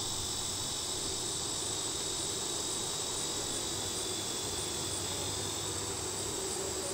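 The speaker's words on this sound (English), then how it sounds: "Still lots of bees in here." Honeybees in an open hive during a summer inspection, a dense continuous drone holding steady throughout with no talk.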